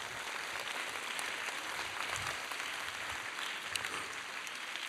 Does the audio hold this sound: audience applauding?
yes